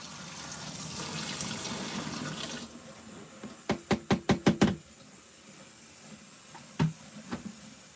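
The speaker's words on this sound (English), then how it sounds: "I'm going to put in that steamy hot water too" Hot water hisses steadily as an LG ThinQ MEGA Ultimate washer fills during a steam self-clean cycle, then the flow stops and a quick run of six sharp knocks follows, with a few more clicks after a pause.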